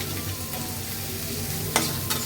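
Vegetables and leafy greens sizzle and crackle in a hot pan after a five-spice tempering, close by, with a couple of sharp stirring clatters near the end.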